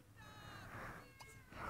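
A cat in The Sims video game gives a few soft, thin meows in quick succession, faint and close, with no talk over them.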